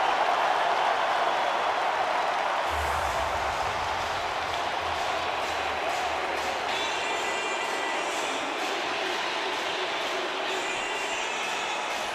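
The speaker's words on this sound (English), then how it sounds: "Listen to this crowd." A college basketball crowd roars at Allen Fieldhouse during a timeout, a dense, loud and steady wash of cheering and noise that swells slightly partway through and continues throughout.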